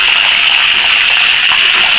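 Water from a fountain jet in Salzburg, Austria gushes steadily and loudly, a continuous rushing spray with no pauses.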